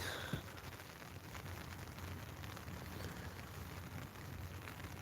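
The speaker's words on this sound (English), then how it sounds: "and it's raining." Steady rain falls outdoors on a garden plot during no-till potato planting, a soft continuous patter that stays even and close throughout, with one brief louder knock near the start.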